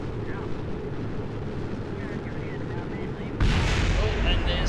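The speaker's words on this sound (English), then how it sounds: "Oh, and there's stuff exploding." In-game explosions in Kerbal Space Program: a dense rumbling roar that suddenly swells louder and brighter partway through, with continuous blast-like noise throughout.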